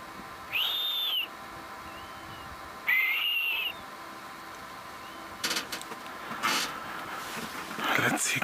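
Blue-naped mousebirds give two clear, drawn-out whistles a couple of seconds apart at a sunset safari, fairly faint against steady outdoor background noise, followed by scattered clicks and rustles.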